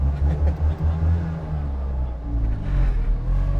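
A small car drives along a racetrack, its engine droning steadily and rising as it accelerates, loud and close throughout.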